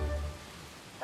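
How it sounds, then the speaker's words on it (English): Rain falling in the Cotswolds countryside, a steady soft hiss of drops on surfaces, brief and even with no voices. "So sorry about the Cotswold rain"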